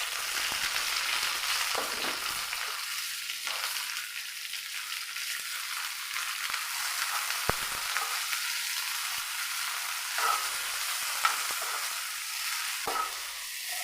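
Tomato, onion, green chilli, garlic and ginger sautéing in two tablespoons of coconut oil, a soft, continuous sizzle with intermittent stirring scrapes and light clicks of the spoon against the pan, no voices.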